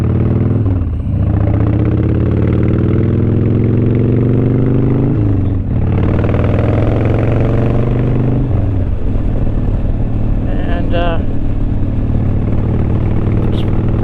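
A 2001 Harley-Davidson FXDWG Wide Glide rumbles loudly while riding through town, its V-twin climbing through gears with repeated rising pitch sweeps and brief dips at shifts, steady and close throughout.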